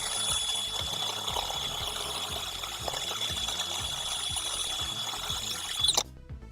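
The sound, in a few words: drilling out plastic cavities in the workshop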